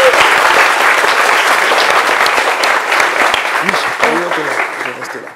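A studio audience on a midday television set applauds the documentary director as he arrives, loud steady clapping that fades toward the end as a voice begins to speak.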